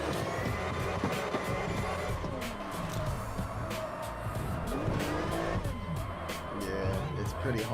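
Car drifting in CarX Drift Racing Online, on two wheels: a steady revving engine drone with layered tire squeal and sliding skid noise running throughout, loud and continuous with no pauses.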